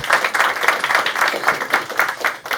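A small group of people clapping in a writers' room, quick uneven claps at close range in a short burst with no talking.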